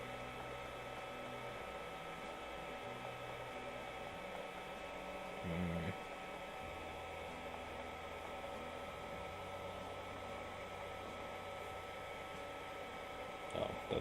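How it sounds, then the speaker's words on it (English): A 3D printer running indoors, a steady faint mechanical whir and hum with shifting tonal motor steps, continuing without talk. "I'm printing something for my older brother on my 3D printer."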